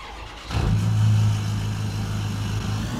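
Farm vehicle engine in Farming Simulator 19 on a farmyard map, cutting in after a quiet start and settling into a steady low drone as it drives off, moderately loud and alone without speech.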